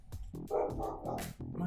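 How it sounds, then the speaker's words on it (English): A pet dog barks in a short burst of several loud, close woofs indoors, with no talking over it. "My dog is freaking out."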